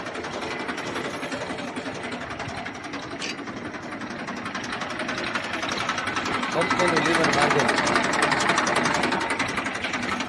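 A Massey 1035 tractor, a one-owner machine, runs steadily at idle with a chugging diesel hum that swells slightly toward the end, while someone talks over it.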